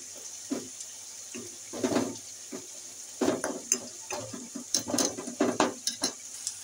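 Water from a tap splashes in short bursts while ground cumin, coriander and turmeric are stirred into it in a bowl. The sound is close and fairly quiet, an uneven pattern of trickles, clinks and scraping.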